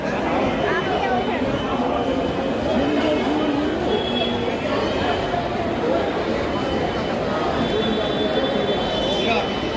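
Express trains stand at a busy station on the Nizamuddin to Pune Special Express route, a loud, continuous rumble and hum with faint high squeals, while people talk over it throughout.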